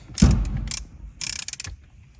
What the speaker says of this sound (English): Remove the torque screw.